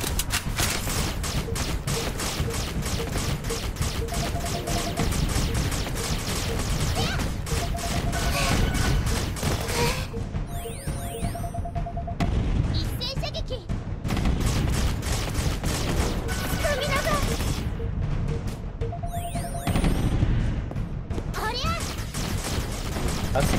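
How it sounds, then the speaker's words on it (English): Cannon blasts and dynamite explosions go off in the Ichigaya stage of the video game Dead or School, coming as repeated bursts of booming gunfire-like blasts over a busy game soundtrack, with a player talking at times. "Lots of cannons and dynamite."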